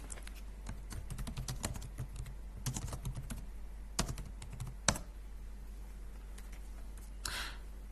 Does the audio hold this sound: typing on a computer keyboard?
yes